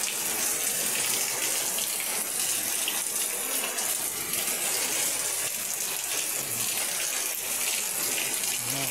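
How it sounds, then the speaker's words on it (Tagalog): Heavy rain pours down in a steady, dense hiss that stays loud and even throughout, with no voices. "Ang lakas ng ulan."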